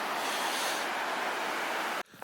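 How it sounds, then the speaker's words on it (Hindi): A river flows openly through freezing -25°C weather in Himachal, India, giving a steady, close rushing wash of water that cuts off abruptly near the end. "नदी का पानी बहता पानी है।"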